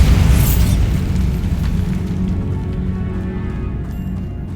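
A Bombarda explosion spell in the Hogwarts Legacy game detonates with a loud, deep boom that rolls into a long, fading rumble with scattered debris crackle.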